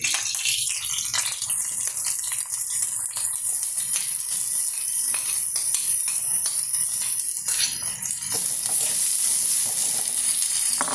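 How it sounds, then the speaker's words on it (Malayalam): Thinly sliced onion frying in coconut oil for an ivy gourd (kovakka) roast, a steady, fairly loud sizzle with faint stirring running throughout. "അതിലേക്ക് ഈ നേരിയതായിട്ട് അരിഞ്ഞ് വെച്ച സവാളയാണ് ഇട്ട് കൊടുക്കുന്നത്"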